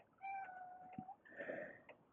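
Domestic cat meowing indoors in a workshop, two drawn-out, tonal meows in close succession, fairly close and moderately loud, with no talking over them.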